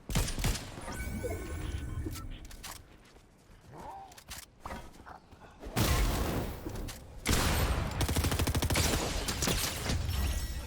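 Rapid bursts of video-game gunfire in Fortnite Zero Build, dense crackling shots in loud clusters mixed with mechanical clatter and footsteps, close and intense.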